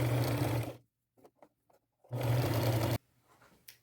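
Sewing machine running a wide zigzag stitch on lace while pleating it, two loud continuous bursts of steady motor whir with a short pause of faint handling noises between.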